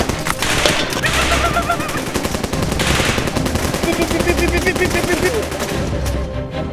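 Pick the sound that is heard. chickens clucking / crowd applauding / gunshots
gunshots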